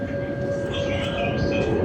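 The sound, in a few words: tram running on the SIR1 line in Padova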